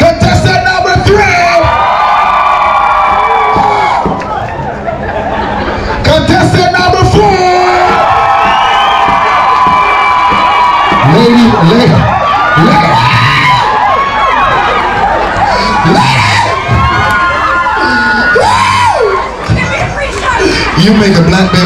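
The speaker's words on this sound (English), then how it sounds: "I need loud cheer, not no for everybody." Crowd in a club audience cheering for contestants, loud whoops, yells and hollers rising in waves with chatter between bursts and a host talking over the noise.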